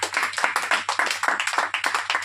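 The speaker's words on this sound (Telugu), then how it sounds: "అందరూ మరొక్కసారి చప్పట్లు కొట్టండి" A church congregation claps in a fast, steady rhythm, many hands together, close and loud, with a low hum underneath and no talking.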